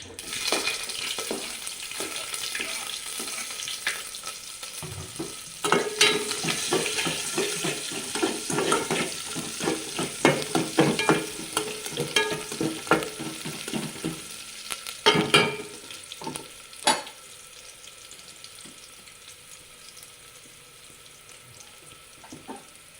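Onions frying in oil with curry leaves and mustard seeds, a loud sizzle full of crackles and rapid pops that fades toward the end, with occasional clatters of the stirring spoon and no speech.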